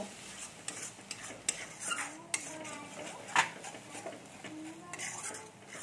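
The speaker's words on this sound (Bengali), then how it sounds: "দিয়ে আমি একটু জল দিয়ে দিচ্ছি, দিয়ে মশলাটা ভালো করে আমি কষে নেব।" A metal spoon scrapes and taps around a pan while spice paste with added water and Kashmiri red chilli is stirred and fried for egg curry. Clinks come at an irregular pace, with light sizzling underneath.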